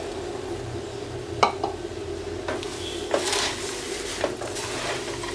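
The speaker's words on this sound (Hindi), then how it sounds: "हल्के हाथ से मिक्स कर लेंगे।" Roasted poha chivda being stirred in a pan, soft scraping with a few sharp clinks and knocks of the spoon against the metal, fairly quiet and with no voices.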